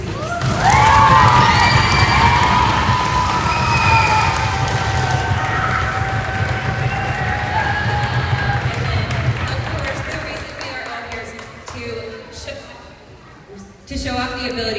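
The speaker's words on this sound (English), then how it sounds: "we make a huge round of applause for your parents, please." A school concert audience of parents and children cheers and applauds loudly and continuously, with shouts and whoops rising early and the crowd noise gradually thinning toward the end.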